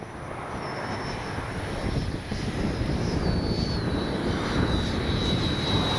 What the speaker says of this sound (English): Beautiful plane. The gear is down.